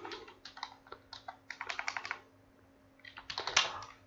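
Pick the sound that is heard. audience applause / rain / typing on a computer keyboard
typing on a computer keyboard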